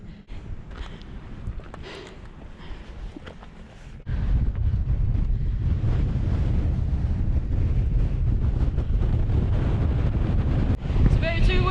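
Strong gusting wind buffets the microphone on the Zugspitze summit, a loud rumbling roar that swells after a few seconds and holds steady, with a voice speaking briefly beneath it.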